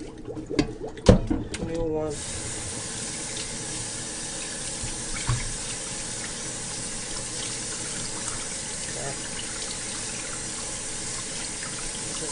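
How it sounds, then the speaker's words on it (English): Water is poured out and rinsed from a tap into a sink, with clattering and splashing in the first two seconds, then a steady running stream. A voice speaks briefly. "I'm gonna pour that set of water away"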